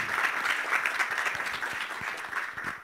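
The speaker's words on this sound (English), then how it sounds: "So let's give them a round of applause." An audience at a university Three Minute Thesis final round applauds the competitors with brisk, even clapping that fills the room for a few seconds without pause.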